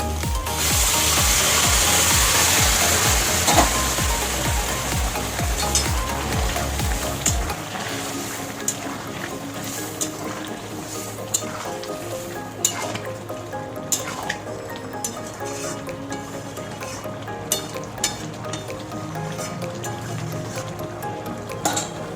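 Hot water poured steadily into a pan of frying jackfruit curry, a loud rushing sizzle for the first several seconds, then settling into bubbling and scattered crackles and clinks.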